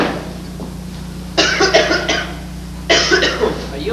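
Two bursts of coughing from an elderly man in a hospital ward during a staged play, a short cluster near the start and another after a pause, loud and close over a steady low hum.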